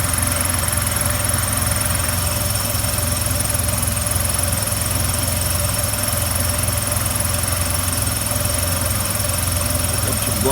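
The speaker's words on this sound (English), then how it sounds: "Sounds like everything's running nice and smooth on that generator." A generator engine on a 1952 Dodge B4B truck runs at a steady, even idle, with a constant low rumble and mechanical whine holding unchanged throughout, close and loud.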